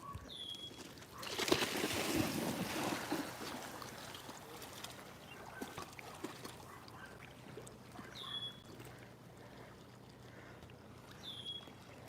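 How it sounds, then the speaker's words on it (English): A boat passes on the water at sunset, its steady motor and wash rising and fading over several seconds at moderate distance, with faint birdsong and light background activity but no clear talk. "Oh, the boat's coming."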